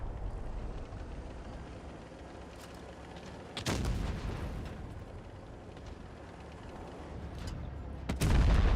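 Tank gunfire in the mobile video game World of Tanks Blitz: two sharp booming cannon shots about four seconds apart over a constant engine and battle rumble, with a further heavy blast at the end.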